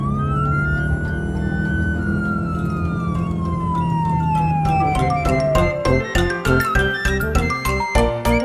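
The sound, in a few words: rescue car siren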